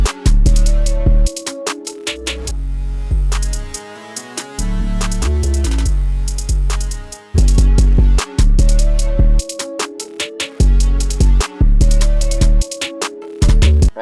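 A distorted 808 bass drives a trap beat made in FL Studio, heavy gritty low hits pulsing in a steady pattern with sliding pitches, under hi-hats and a melodic loop, loud and continuous with no talking.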